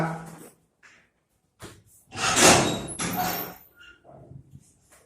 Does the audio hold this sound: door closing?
yes